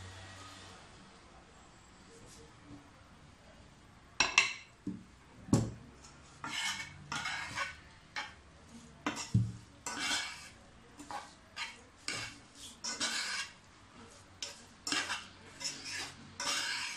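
A utensil stirs and scrapes food in a metal pot while cooking beans, giving a quiet start and then a run of sharp, irregular clinks and scrapes, near and loud, with no talking.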